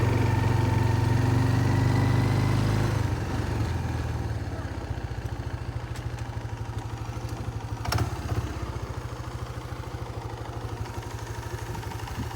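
A Kawasaki Bayou 220 ATV engine runs steadily in second gear at low speed, a close, even mid-pitched chug that settles after a few seconds, with a brief clatter partway through.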